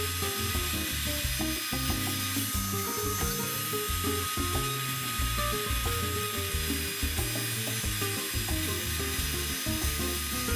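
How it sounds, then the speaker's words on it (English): A wood router cuts a border into a wooden sign, its steady motor whine and grinding cut running continuously and loud throughout, with no talk. "Starting with the curve and then drawing the router toward me."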